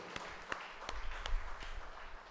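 A church congregation clapping hands in thanks during a Tamil Catholic sermon, a handful of sharp separate claps scattered across a low background, fairly quiet and loosely spaced.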